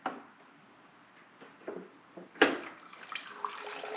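Cold water runs from the tap of an Avalon bottom-loading water cooler, starting with soft trickles and drips before a sudden louder gush of flowing water splashes continuously near the end.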